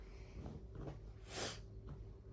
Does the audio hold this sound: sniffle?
yes